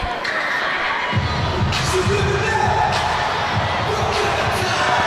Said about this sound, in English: the crowd psyched up